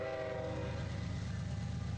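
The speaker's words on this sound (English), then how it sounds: "A train horn that wouldn't stop sounding" A train horn blares continuously with a steady, droning chord, while rail noise rumbles underneath.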